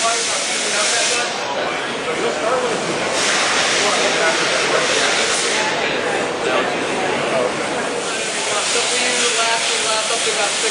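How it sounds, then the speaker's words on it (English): Biodegradable cleaner sprayed onto a car's finish, a continuous loud hissing spray with brief surges and dips over about ten seconds, nearby and dominant. "Spray it down, break all that stuff down."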